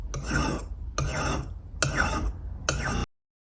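Four rasping strokes of a metal file across the exterior of a silver vessel, each lasting about half a second with short pauses between, close up and alone.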